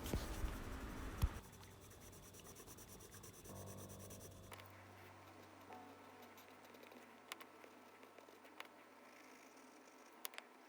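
Colored pencils scratching over paper while houses are filled in for a simple Starry Night drawing, a steady close rubbing and scribbling that shifts in texture partway through and continues quietly with small taps.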